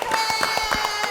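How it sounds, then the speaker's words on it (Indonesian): A studio audience at an Indonesian football talk show claps in a quick, steady rhythm. The brief burst is close and moderately loud, with no talk over it. "Tepuk tangan buat Popcornnya"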